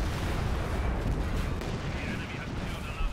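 Tank gun fire in the World War II strategy game Company of Heroes 2, a dense, loud burst of booming battle noise with heavy low rumble, filling the short stretch with overlapping blasts.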